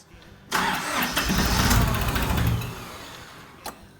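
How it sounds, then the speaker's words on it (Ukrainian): A Japanese mini tractor engine cranks roughly for about two seconds at full throttle with the clutch pressed, then dies away without catching and leaves a brief clunk, loud and close. "Вижимаємо щеплення, даю повний газ і заводимо."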